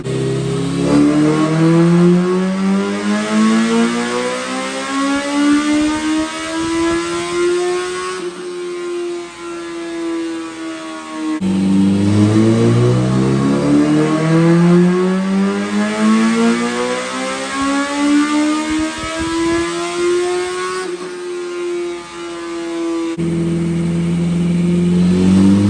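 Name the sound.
engine revving on a dyno run after leaning the fuel map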